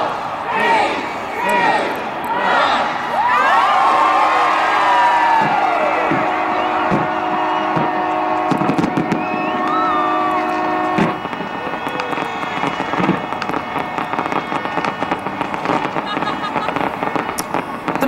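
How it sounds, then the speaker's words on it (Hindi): Fireworks at the Auckland Sky Tower on New Year's Eve, with repeated bursts and crackles over a steady roar of a large celebrating crowd, whistles and rising tones threading through the din. "ऑकलैंड के स्काई टावर पर लोग जुटे हैं और आतिशबाजी कर नए साल का स्वागत कर रहे हैं।"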